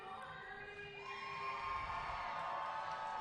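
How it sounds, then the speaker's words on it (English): A crowd cheers and shouts at a junior roller derby game, with sustained whoops and high children's voices that swell in volume partway through and then hold, heard from within the venue. "Crowd once again getting hype for these amazing athletes."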